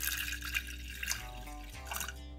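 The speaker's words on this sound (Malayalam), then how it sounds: "ആവശ്യമായ വെള്ളം ചേർത്ത് കൊടുക്കാം." Water is poured into a pressure cooker holding washed sago, a soft trickling and dripping close by in a quiet kitchen.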